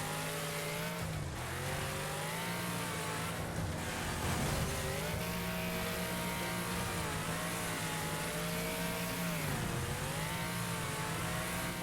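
Race car engine in a racing video game revving steadily, pitch sweeping up and down through gear shifts with brief dips, loud and continuous for about twelve seconds, with no talking over it.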